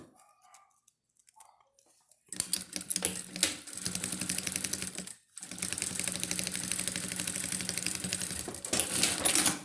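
A sewing machine runs steady straight-seam stitching on a fabric bag. After quiet handling, a loud continuous whirring burst starts, pauses briefly, then resumes for several seconds.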